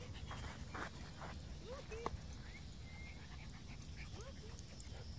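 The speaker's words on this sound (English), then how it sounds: "Go play with the doggy." Puppy almost six months old whimpering and panting in short soft bursts at moderate distance, with brief yips, over a steady low background rumble; people talk nearby.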